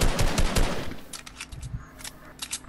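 Rapid automatic gunfire in a shooter video game, a dense rattling burst up front, then scattered sharper shots continuing at moderate loudness.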